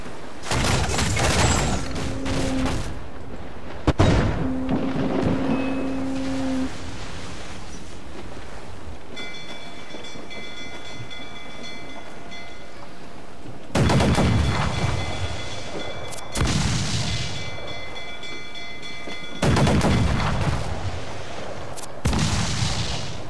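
Ship cannon broadsides in Assassin's Creed 4: several heavy booming volleys roll out in separate bursts, with two near the start and a cluster of loud blasts in the second half, each booming and then fading into a rumbling tail.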